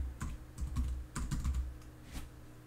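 A computer keyboard clatters during a Sporcle geography quiz, with quick irregular bursts of keystrokes and short pauses between them, close and fairly loud.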